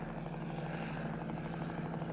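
An army helicopter thrums with a steady rotor chop and engine drone, a continuous rhythmic throb holding at an even, moderate distance.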